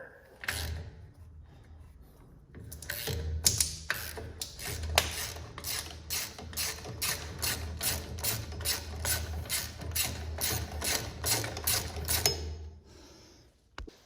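Screws being worked out of the backing plate on a Ford Model A axle, a long run of rapid, loud metallic ratcheting clicks in steady rhythm, close up, with a few scrapes before and after, no talking.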